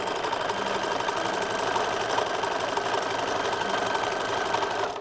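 A sewing machine runs a 3/8 inch seam on a 1930s-1940s style infant slip, its motor and needle keeping up a steady, close, continuous whir for the whole stretch before cutting off at the very end, with no talk.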